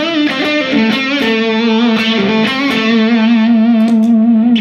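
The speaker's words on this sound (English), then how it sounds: "I really like the sound of a Tube Screamer." Electric guitar on the neck pickup through an Ibanez Tube Screamer Mini overdrive pedal, a warm, lightly driven tone playing a melodic line with sustained notes, loud and close, no talking.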